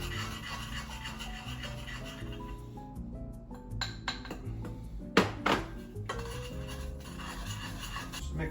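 Bread pudding mixture with butter being stirred in a bowl, scattered clinks and knocks of utensil against the bowl, one sharper clatter midway, close and moderately quiet.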